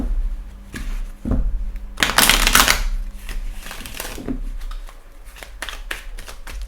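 Oracle cards being shuffled by hand, a close, dry riffling and rustling with a dense burst in the middle followed by lighter scattered flicks; no one speaks.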